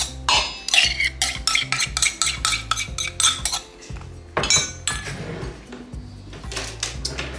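Utensils tossing sauce through broccoli in a home kitchen dish, with a busy run of close clinks, scrapes and clatter that pauses briefly midway, over a faint steady tonal backdrop.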